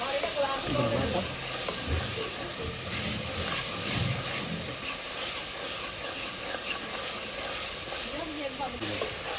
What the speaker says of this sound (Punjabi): ਅਜੇ ਮਸਾਲਾ ਭੁੱਜਣ ਲਿਆ ਹੈ ਅਜੇ ਕੱਚਾ ਮਸਾਲਾ ਹੈ